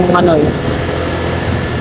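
Air conditioning inside NAIA Terminal 3 at the airport: a loud, steady broadband whoosh throughout, with a brief voice at the very start.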